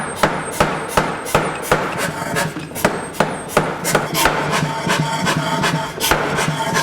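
Hammer blows on hot steel while forge welding a rapier blade, with many welding heats: a loud, close, steady train of sharp ringing strikes at a brisk regular pace over a low background roar.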